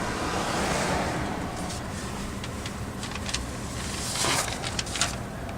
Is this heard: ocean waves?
yes